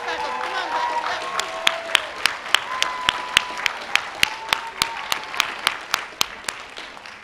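Commencement crowd at a 2015 CSULB liberal arts ceremony applauding faculty and family: a broad wash of clapping with a few sharp, close claps standing out at a steady rhythm near the front, while a voice talks under it early on.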